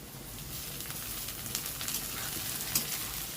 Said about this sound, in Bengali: সুন্দর করে নেড়ে চেড়ে ভেজে নেব